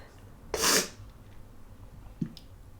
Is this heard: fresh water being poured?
no